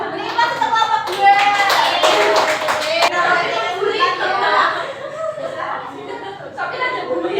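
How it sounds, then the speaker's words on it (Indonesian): A classroom of students claps for group 2 during a maths lesson. The clapping is brief and moderately loud, with children chattering and laughing over and around it. "Beri tepuk kelompok 2."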